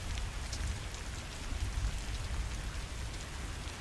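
Rain falling outdoors in a mobile video game, a steady hiss of drops pattering on surfaces at moderate loudness, continuous and even, with no talk.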